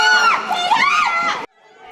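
Loud crowd of protesters shouting and jeering at the visiting IAEA chief, Director General Grossi, during his visit to Korea, a dense wall of raised voices that cuts off abruptly near the end.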